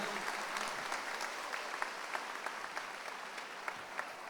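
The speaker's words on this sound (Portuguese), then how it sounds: "vamos dar uma salva de palmas para Jesus?" A church congregation applauds steadily, a dense wash of many hands clapping at even loudness throughout, with no break.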